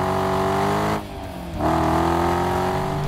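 A 6.4-liter Hemi SRT V8 making 475 horsepower rumbles loudly through its exhaust, dipping briefly as the throttle lifts before surging back to a deep, steady roar, close and alone.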